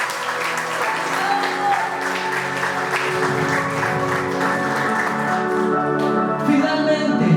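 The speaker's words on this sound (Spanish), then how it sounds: "Dale un fuerte aplauso a Él." Congregation applauding in a church service, sustained clapping from many hands over a held musical tone and some voices, steady and fairly loud throughout.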